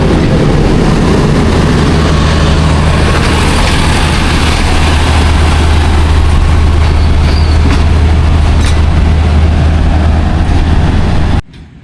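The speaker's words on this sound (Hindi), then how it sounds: "शार्प लेफ़्ट कर्व लेगी जी GU20 के साथ और उसके बाद ये मेन लाइन पे डाइवर्ट हो जाएगी।" A train hauled by a GU20 locomotive passes at Taxila Cantt junction with a loud, close rumble, a low steady engine drone and rattling wheels, continuing without speech until it cuts off abruptly at the end.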